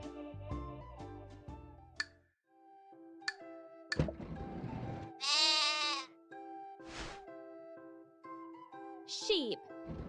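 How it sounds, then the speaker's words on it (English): Sheep bleating in an animal-learning video game for children: a clear, quavering bleat stands out in the middle, among game chimes and jingles, with brief sparkly effects and other short cartoon sounds around it. "Sheep."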